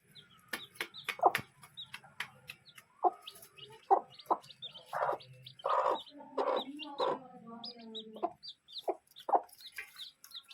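A hen and her two-week-old chicks cluck and peep nearby: short, uneven bursts of clucking mixed with thin high chirps and quiet gaps between them, with no voices.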